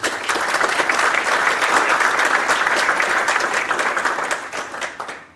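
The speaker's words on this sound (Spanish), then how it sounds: "Biblioteca del doctor Mario Castillo Freire, a quien pido que lo recibamos con un caluroso aplauso" A room full of people applauds steadily, dense clapping that stays strong throughout before fading off at the very end.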